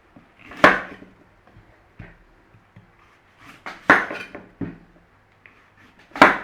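Turnips being peeled in a kitchen, a few sharp knocks and clatters of utensils and cookware spaced apart, with quiet scraping between them, close and clear with no talking.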